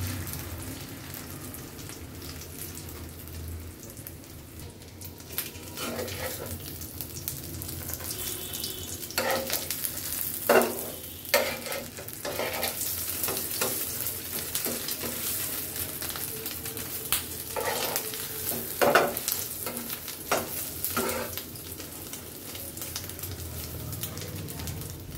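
Chilies stir-fry in a wok for chili mash, giving a steady soft sizzle broken by scattered sharp clicks and scrapes of stirring, with no voices.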